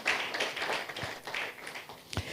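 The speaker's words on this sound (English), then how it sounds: "A round of applause for her as she joins us on stage" Audience applause at a clean-energy business conference stage event, a moderate patter of clapping that rises and thins out over a couple of seconds, with a few sharper isolated claps near the end.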